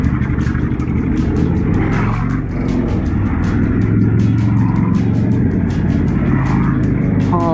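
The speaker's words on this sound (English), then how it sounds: "there's a ton of bikers coming behind me now" A group of motorcycles rides past in heavy highway traffic, loud engine roar with repeated rapid ticking pulses, close and continuous throughout.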